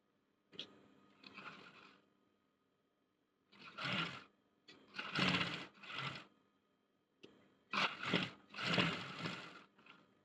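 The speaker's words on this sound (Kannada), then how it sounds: "ಇದನ್ನ ಎರಡು ಕ್ರಾಸ್ ಬೆಲ್ಟ್ ಅನ್ನು ನಾವು ಅಪೋಸಿಟ್ ಇಟ್ಕೊಂಡು ಸ್ಟಿಚ್ ಮಾಡಿದ್ರೆ" Sewing machine stitching the cross belts of a blouse, running in short bursts of a second or two separated by quiet pauses, close and clear with no talk.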